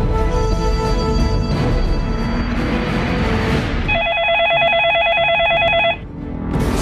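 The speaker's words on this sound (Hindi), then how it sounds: "आशिर ने पुलिस को फोन कर नेकलेस की चोरी की इतला दी।" A telephone rings in a burst of repeated electronic trills partway through, as someone calls the police to report a stolen necklace; a dense music and drama bed plays underneath before the ring, and it cuts off near the end.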